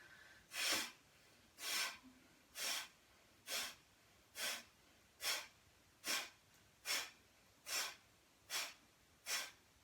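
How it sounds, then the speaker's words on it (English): Bellows breathing during a yoga session, a series of about eleven forceful nasal breaths, each a close, airy rush through the nose repeating at an even rhythm of roughly one per second, with no talk over them. "let's do our bellows breathing, where we inhale and exhale out through our nose, nice and slow."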